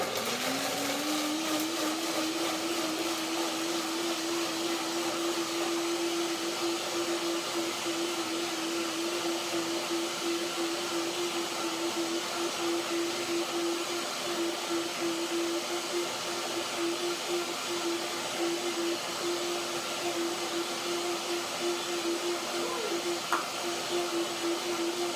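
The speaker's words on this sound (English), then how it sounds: "So blender dance, number 1." A blender whirs steadily and loudly for the whole stretch, blending a Herbs of Provence dressing with water, its motor holding one even pitch from start to finish.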